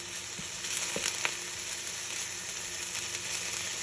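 Stinging nettles stir-frying in a pan give a steady, fairly quiet sizzle with faint clicks of stirring, with no talking.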